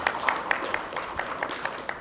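An audience applauds the Minister for Fisheries and Forest at a forum on co-hosting the 5th Pacific Tuna Forum, a short stretch of light, fairly faint clapping with distinct individual claps at a steady pace.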